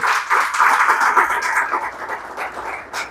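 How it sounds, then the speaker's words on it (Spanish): A congregation claps together in a church service, a dense patter of hands that swells early and then gradually thins and fades over a few seconds. "¿Cuántos le pueden dar un aplauso al Señor?"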